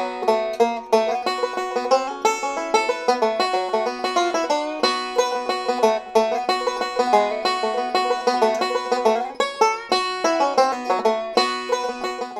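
A banjo plays bluegrass backup to "Don't Let Your Deal Go Down", with bright, rapid picked rolls and chords in a continuous driving rhythm, close and clear with no voices.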